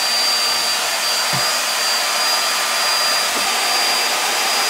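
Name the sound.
hair dryer heating glue on a wall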